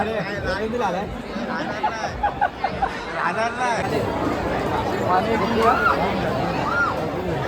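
Dense crowd chatter fills a busy wedding dinner queue, many voices babbling together close by and continuously, with no single voice standing out.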